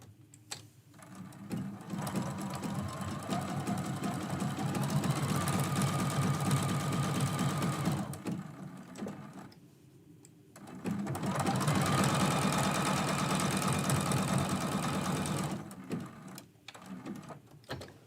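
A sewing machine stitches quilt blocks in two long, steady bursts of fast needle chatter, separated by a brief pause, with a few short clicks at the end, close and loud.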